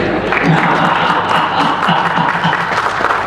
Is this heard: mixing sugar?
no